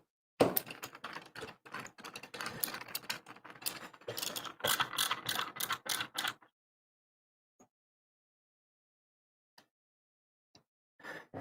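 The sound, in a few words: driving screws into an arcade cabinet build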